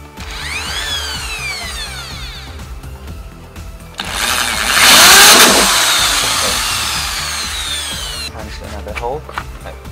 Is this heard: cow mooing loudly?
no